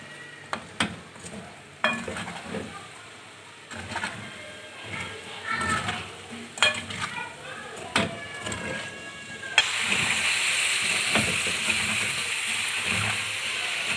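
Spiced sliced potatoes stirred in a karahi with coriander and cumin, giving intermittent scrapes and clatters of the spoon against the pan, then a steady bright sizzle through the last few seconds.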